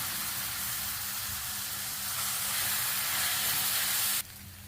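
A loud, continuous sizzle and hiss of macaroni frying in a hot pan, steady for several seconds before dropping off abruptly.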